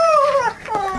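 A dog whimpers up close in a high, thin whine that falls in pitch, breaks off briefly, then rises again in a second short whimper, loud and alone.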